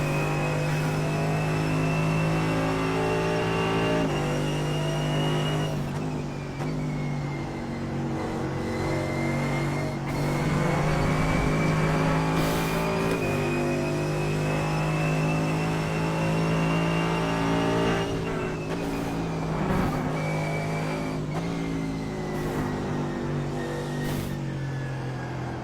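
Mercedes AMG GT3 race car engine at Silverstone in the iRacing video game, a loud, steady high-revving drone with clear gear changes and rising and falling pitch through corners, sustained throughout with no talk.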